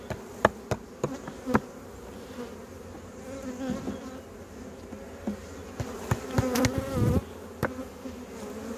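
Honey bees buzz in an open hive as frames are lifted out of the colony, a close, wavering drone broken by sharp knocks and scrapes of wooden frames.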